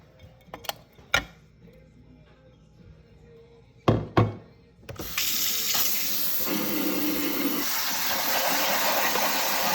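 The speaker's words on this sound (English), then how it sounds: "All right, so I'll give them a quick wash." Wood boring beetle larvae are washed under a running tap, a few clacks and thumps at a sink before a steady rushing stream of water starts and keeps flowing, close by.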